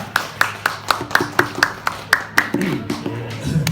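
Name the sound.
audience applause for introduced host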